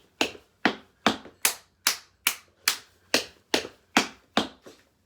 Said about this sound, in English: Second exercise, toe stamp, clap, clap, clap, clap.